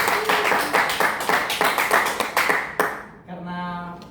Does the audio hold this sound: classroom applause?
yes